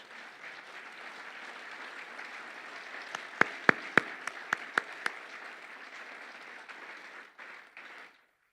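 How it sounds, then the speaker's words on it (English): A crowd applauds steadily for several seconds, with a few sharp, close claps standing out before the clapping fades away. "How about a round of applause?"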